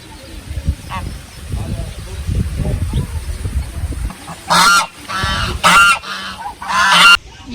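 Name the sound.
flock of ducks at a farm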